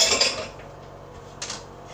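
A spatula scrapes leftover egg from a pan, giving a short metallic scrape at the start and a fainter second scrape a moment later, close and quiet with no talk.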